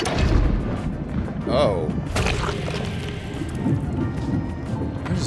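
Explosions in the horror game Scorn: a few dull, rumbling booms and crashes with a sharp burst near the middle, fairly muffled and distant, with a brief spoken exclamation over them.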